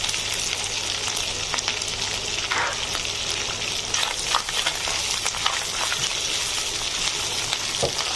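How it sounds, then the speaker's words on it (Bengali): Whole garam masala spices sizzle in hot oil in a pan for chicken biryani, a steady close frying hiss with occasional crackles and stirring scrapes. "একটু ভেজে নেব দিয়ে দিচ্ছি সবগুলো গোটা গরম মশলা"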